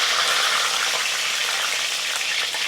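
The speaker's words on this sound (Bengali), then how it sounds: "তেলটা আমার গরম হয়ে গেছে, আমি এখন দিয়ে দেবো 2টো তেজপাতা, দিয়ে দিই 2টো কাঁচামরিচ, 2টো শুকনো মরিচ" Two bay leaves, two green chillies and two dried chillies hit hot oil in a pan for a mutton curry, giving a loud, steady hiss and crackle of frying that runs unbroken with no voices.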